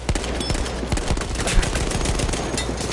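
Dense, continuous gunfire in a Battlefield 1 fight, with many overlapping shots and bursts crackling loud and close at a steady rapid pace and almost no gaps.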